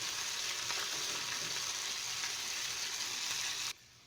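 Falafel balls frying in hot oil, a steady dense sizzle and crackle held at even loudness, close by, cutting off abruptly near the end.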